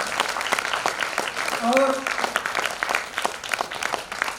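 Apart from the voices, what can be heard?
audience applause at a poetry gathering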